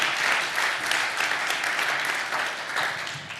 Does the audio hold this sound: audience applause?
yes